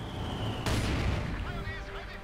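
A mortar firing in the video game Company of Heroes 2, heard as a sudden boom with a rumbling tail that cuts in over a low battle din.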